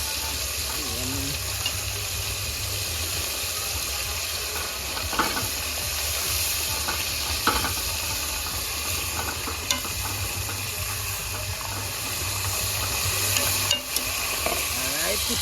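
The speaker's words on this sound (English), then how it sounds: "chicken them a fry, looking nice" Chicken fries in a pot of oil outdoors by a riverside, giving a steady broad hiss and crackle with occasional clinks from a fork turning the pieces.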